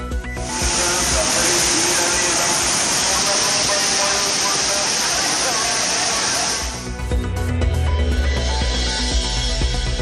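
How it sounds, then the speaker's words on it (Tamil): Tourists bathe at the Thirparappu waterfall, where dense rushing and splashing water fills the whole scene loudly, shifting to a heavier, lower roar toward the end. "திற்பரப்பு அருவியில் குளித்தும் மகிழ்ச்சி."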